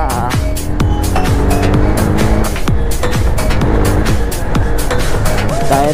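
Car tyres speed along a road, a loud continuous roar of engine and tyre noise with passing vehicle swells throughout, steady and close.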